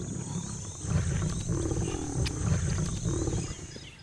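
Lion roaring in a series of deep, rumbling roars with pulsing low-end bursts repeating through the clip, loud and close, with no talking.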